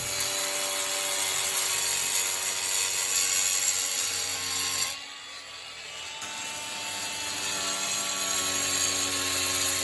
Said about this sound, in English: we're gonna cut it out with the diamond blade on the grinder and start chipping away at whatever this wall is made of